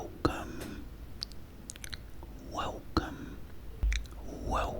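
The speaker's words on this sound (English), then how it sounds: "today I am eating some homemade chicken chow mein" Close, crisp chewing and crunching of homemade chicken chow mein in an ASMR eating session, with a few sharp bites and soft wet mouth sounds between quiet breaths.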